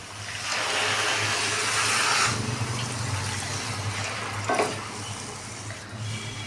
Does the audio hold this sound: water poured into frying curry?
yes